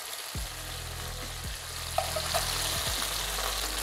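Chicken wings sizzle and fry in a pan with a constant bright crackle, while scraping stirs cut through several times at close range; no one speaks.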